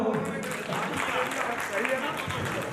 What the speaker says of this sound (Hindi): तालियां तो बजाओ।